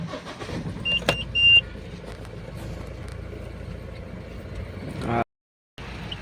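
A Mahindra Scorpio SUV drives along a highway, its interior filled with a steady engine and road rumble. A few small clicks come early, then the sound cuts to a brief silence near the end before the rumble resumes.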